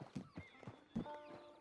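A horse in the video game Red Dead Redemption 2 gives a few close clip-clop hoof steps and a neigh, with faint background sound.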